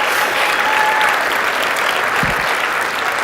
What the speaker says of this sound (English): So a massive round of applause for them.